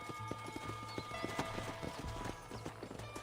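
Horses clip-clop steadily in Red Dead Redemption, a quick rhythmic patter of hooves on dirt with a low musical drone beneath, close and moderately loud.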